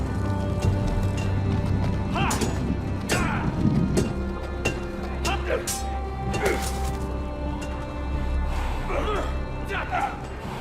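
Horse hooves clip-clop in a Game of Thrones Telltale video game scene, steady moderate footfalls running under ambient game music and background voices.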